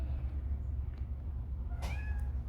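A black cat gives one short, clear meow over a steady low background hum at a parrot sanctuary in the Cayman Islands, with no talking.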